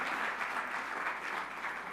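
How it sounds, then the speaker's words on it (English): Applause from an audience after a choir performance at a formal inauguration ceremony fills the clip, steady and dense from start to finish, with no voices above it. "another round of applause for the Twinkle Choir and Chevalier Joseph Samy"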